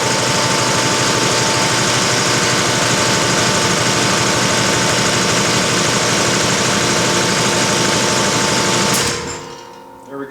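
An air compressor with a tank gauge near 145 runs loud and steady with a dense mechanical chatter, then cuts off abruptly near the end, leaving near silence.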